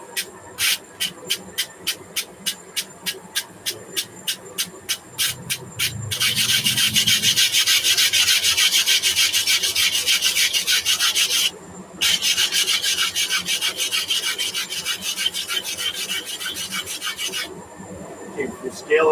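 A wire brush scrapes scale off hot forged steel, starting with quick, regular strokes and then settling into long, continuous loud scraping with short pauses.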